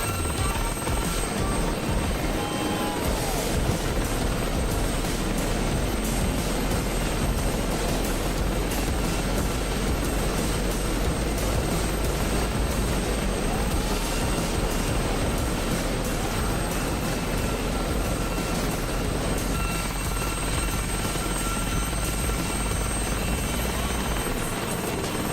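A Gazelle helicopter flying low in a combat flight video game tournament, its rotor and turbine making a loud, continuous, dense drone that holds steady throughout with no talk over it.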